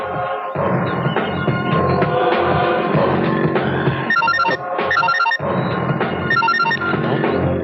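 An old-style telephone bell rings in bursts over a loud, dense film score in a Marathi movie, the double-ring pattern recurring twice under the busy music.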